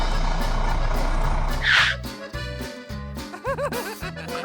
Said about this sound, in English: Mr. Bull's brother arrives with his tow truck.